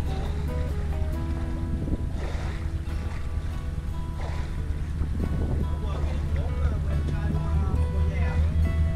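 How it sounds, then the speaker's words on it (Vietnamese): A 22-metre drift-net fishing boat at sea churns along with a steady low engine drone and water sloshing against the hull, while someone talks over it throughout. "tàu cá dài 22 mét lưới rút nha anh em ơi lưới rút đêm nha"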